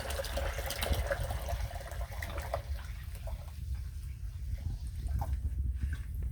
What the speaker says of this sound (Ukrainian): доливаємо води.